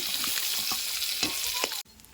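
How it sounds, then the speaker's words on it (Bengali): Steady, loud sizzling of fish frying in hot oil, nearly crisp, with a few soft stirring knocks, cutting off abruptly just before the end. "মাছগুলো ভাজা ভাজা হয়ে গেছে"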